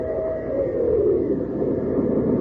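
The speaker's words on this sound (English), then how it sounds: "swing aboard our famous talking train" Train sound effect from an old-time radio show, a steady rumbling rolling noise with a whistle-like tone, loud and continuous throughout.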